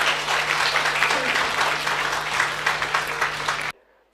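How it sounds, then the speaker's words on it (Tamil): An audience claps in a dense burst of applause at a Christian gathering for a man being thanked, loud and close, holding steady for several seconds before cutting off abruptly. "கைத்தட்டுங்க அவருக்கு"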